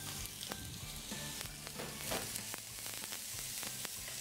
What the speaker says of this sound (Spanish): medio tostando los pedacitos de cebollín, vamos a agregar el jamón